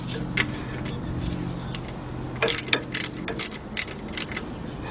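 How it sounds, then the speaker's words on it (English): Ratchet tightening bolts on the rear brakes of a 2005 Chevy Suburban, heard as a series of short, fast clicking bursts, close and fairly loud over a low steady background hum. "now let's tighten them up"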